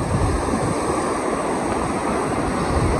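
Small waves wash onto Telisai beach in Brunei, a steady broadband surf rush filling the scene with some wind noise, no voices.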